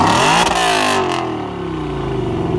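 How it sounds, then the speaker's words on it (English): Lexus LC 500 fitted with a Tom's Racing full titanium catback exhaust and Apex mid-pipe, revving hard close by: a loud, rising blip near the start, then a sustained high engine roar that eases slightly and holds steady. "that is the Apex mid-pipe Tom's Racing full titanium catback exhaust"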